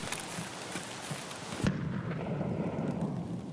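Grenade blast in a multiplayer hunting video game, a single sudden boom that cuts sharply across faint background rustling, followed by a lower lingering rumble.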